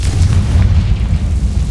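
A Confringo blasting spell explodes in the video game Hogwarts Legacy with a loud, deep, rumbling boom that dominates the short moment.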